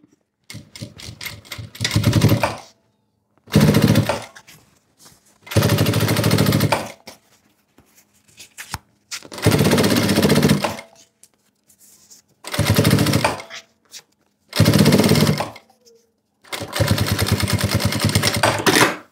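Sewing machine topstitching a seam on a flower-print fabric pouch, running in loud rapid bursts of a few seconds each, separated by short quiet pauses, with no voice over it.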